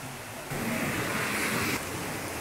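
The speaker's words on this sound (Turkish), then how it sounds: "Şu an dere yatakları falan komple taşmak üzere. Her taraf su içinde arkadaşlar." Floodwater rushes after heavy rain as overflowing streams spill across gardens, a loud, continuous broadband roar that swells sharply partway through and then eases slightly, with no voices.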